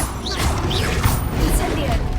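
Leviosa and Accio spells go off in Hogwarts Legacy in quick succession: whooshing magical swishes with crashing impacts, loud and busy, and a voice talks over the effects.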